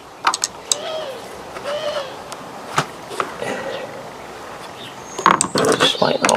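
A Retay T20 shotgun trigger mechanism is handled and taken apart, giving scattered metallic clicks, scrapes and small ratcheting sounds up close, with a busier cluster of clatter near the end; someone speaks in between.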